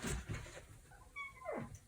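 A single soft meow from a cat, faint and close by, after a couple of dull thumps.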